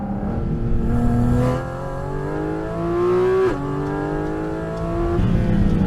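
A Porsche 718 GT4 RS flat-six engine and exhaust rev loudly and close by, with the pitch rising, dropping sharply, then climbing again in a continuous snarling drone.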